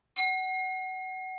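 A single bell strikes once, sharp and clear, then rings on with a long steady tone that slowly fades, alone in a quiet setting.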